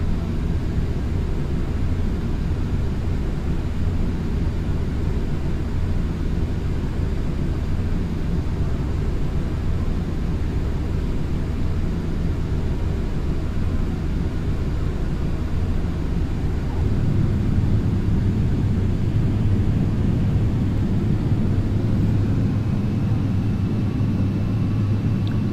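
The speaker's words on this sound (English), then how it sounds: "As we touch down, we will reduce our thrust all the way back to idle." A steady, loud rumbling roar fills an airplane cabin during touchdown on a zero-gravity parabola flight as thrust is reduced to idle. A slight tonal hum rises near the end.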